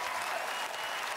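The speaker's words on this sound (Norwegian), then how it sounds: "Stor applaus til Aylar og Egor." A studio audience applauds dancers after a tango on a televised dance competition, a dense, loud, continuous wash of many hands clapping with no talk.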